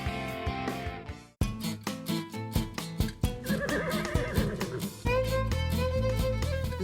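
A horse neighs at the Les Écuries de Mornache riding stables in Tunisia. A clear whinny rises over rhythmic music that plays throughout.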